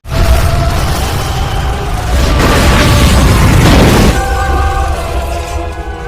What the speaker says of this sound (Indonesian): Bersamaan dengan meledaknya bom, dengan susah payah Chen membawa mayat rekan-rekannya itu keluar.